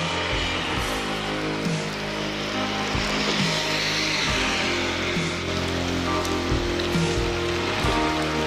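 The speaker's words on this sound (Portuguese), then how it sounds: "Deus mandou a chuva" Steady rain falls across a surface with a dense hiss at a truck fire, while a low engine-like rumble comes and goes underneath.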